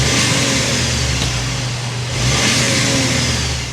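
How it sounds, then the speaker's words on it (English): Turbocharged four-cylinder engine of a 2024 Volkswagen Atlas Cross Sport SEL Premium R-Line, steady exhaust hum rising in a couple of revs, heard close and alone. "start up this new Turbo 4 so you can hear that exhaust note"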